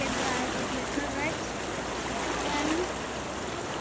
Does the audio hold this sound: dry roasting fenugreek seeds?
no